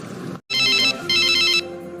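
A phone ringtone plays in two bright repeated bursts separated by a brief pause, clear and close, with no talk.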